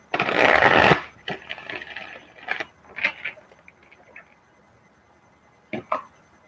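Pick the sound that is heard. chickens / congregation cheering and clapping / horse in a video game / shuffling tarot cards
shuffling tarot cards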